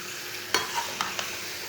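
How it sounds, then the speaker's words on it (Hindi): Goat meat stirred and fried in a pan, a soft steady sizzle broken by a few brief scraping stirs of the spoon, close and fairly quiet. "भून लेंगे 5 मिनट तक।"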